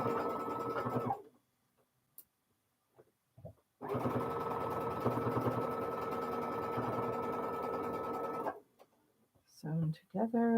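A home sewing machine runs steadily for several seconds, stitching together a fabric flower block for a quilt, with a brief earlier burst and quiet gaps, close and clear.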